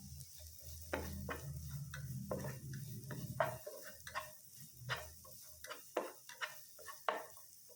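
Onions sauté in garlic butter in a pan, a low sizzle that fades midway, broken by sharp, irregular clicks and scrapes of a utensil stirring against the cookware.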